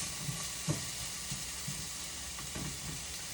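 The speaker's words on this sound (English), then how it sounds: "So now I'm just doing a quick saute." Food sizzling in a pan during a quick saute, a steady broadband frying hiss with occasional soft stirring knocks and taps, close and moderate in level.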